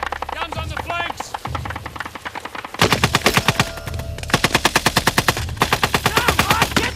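Rapid machine-gun bursts from guns on the flanks of a combat drill rattle in fast, close, loud sequences, with shouting voices mixed in.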